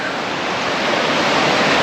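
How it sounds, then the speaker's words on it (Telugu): Waterfall beside the Ooty toy train track, a loud, dense, continuous roar of rushing water heard alone. "చూడండి వాటర్ ఫాల్స్"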